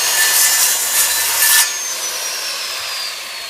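A handsaw rasps through a wooden piece meant as the brace of a small portable sifter. The rubbing strokes are loud and steady at first, then drop to a softer, even grind.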